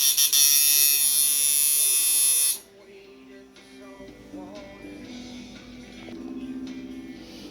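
A homemade tattoo machine runs with a loud, steady electric buzz for about two and a half seconds, then cuts off, leaving quieter low humming and faint handling noise.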